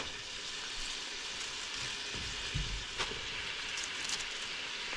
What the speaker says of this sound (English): So you're just gonna add some of the cabbage in and give it a stir.